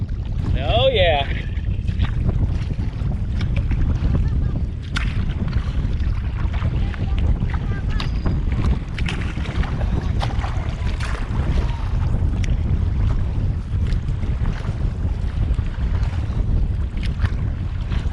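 Wind and water current rush steadily while kayaking along the coast near Cape Lookout and Shackleford Banks, a constant loud buffeting roar of wind on the microphone over splashing water throughout.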